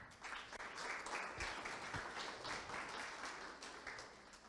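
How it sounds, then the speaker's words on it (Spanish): Audience applause at a pharmacology conference welcoming a speaker, a dense, fairly distant wash of many hands clapping steadily before easing slightly at the end. "Recibamos al doctor Cristian Solís Calero con un fuerte aplauso."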